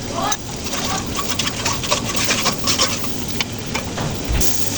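Spices being stirred in a pan with salt for a small puti fish curry with beans and potatoes, a steady soft scraping and light sizzling that runs continuously throughout, close and moderately loud.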